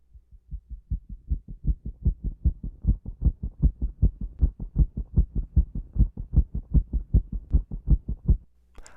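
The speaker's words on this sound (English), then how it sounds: "When the player is approaching 0 health, the heartbeat sound gradually turns up in volume." Video game heartbeat effect at low player health, a steady run of deep double thumps that begins faint and gradually grows louder, alone with no talk.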